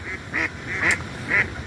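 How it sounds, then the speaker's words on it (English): Ducks quack at a fishing lake in four loud, evenly spaced calls over a low outdoor rumble. "Ducks decided to start singing, as you can hear it."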